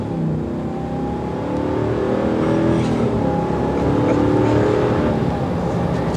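A 2022 Ram 2500 Power Wagon pickup truck cruises on a multi-lane road while passing compact cars, a steady engine and road drone that swells slightly, heard from inside the cabin with no talking.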